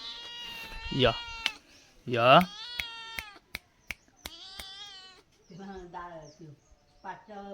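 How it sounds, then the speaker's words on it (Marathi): A domestic cat meows loudly and close by, two drawn-out, rising meows within the first few seconds, followed by people talking over quieter background sounds. "हे मांजर आहे दुसऱ्यांचं, पण याला सगळ्या घरातून प्रेम मिळतं"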